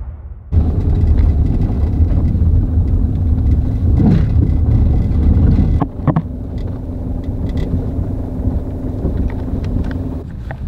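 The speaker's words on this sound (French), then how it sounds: "Je laisse la voiture juste ici." A car driving up to an abandoned zoo with a loud steady engine drone and wind buffeting, then a clunk and a quieter idle as it comes to a stop.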